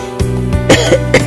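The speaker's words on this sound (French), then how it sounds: "Moi, j'arrête pas de tousser depuis ce matin," A person gives a few short, sharp coughs close by, the bursts coming in quick succession with no speech between them.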